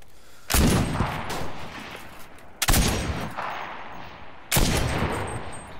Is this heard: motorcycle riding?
no